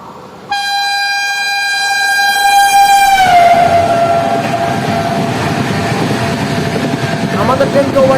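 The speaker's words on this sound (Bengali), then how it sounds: "আমাদের ট্রেনকে ওভারটেক করছে মুম্বাই এলটিটি থেকে ডিব্রুগড় উইকলি সুপারফাস্ট এক্সপ্রেস" An Indian Railways weekly superfast express from Mumbai LTT to Dibrugarh overtakes near a station with a long, loud horn blast, then a steady rumble and clatter of passing coaches fills the rest.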